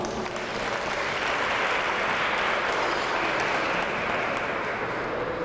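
Steady audience applause at an opening ceremony for Minority Health Month, a dense, even wash of clapping from a crowd that holds for several seconds.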